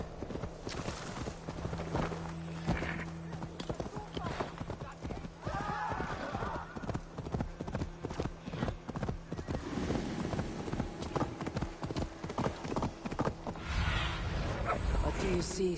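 Hooves clip-clop steadily from a galloping horse in Assassin's Creed Valhalla, a dense rhythmic clatter that runs throughout, with occasional whinnies and game ambience around it.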